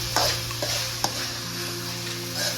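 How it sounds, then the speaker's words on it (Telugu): Marinated chicken with kasuri methi is stirred in a hot pan for a spicy chicken gravy fry, a steady sizzle broken by a few sharp scrapes of the spoon against the pan, close and clear with no voices. "చికెన్ని బాగా అడుగంటకుండా కలుపుకోవాలి."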